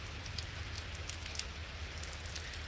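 Steady rain falls during a storm in Pittsburg, Kansas, heard as a faint, continuous patter and hiss with soft scattered drops and no talking.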